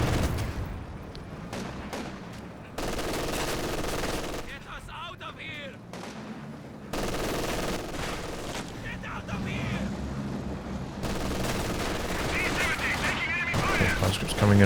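Soviet guards armed with PPSh submachine guns open fire in a Company of Heroes 2 battle, bursts of rapid gunfire and distant explosions rising and falling in loud sections while a commentator talks over the action.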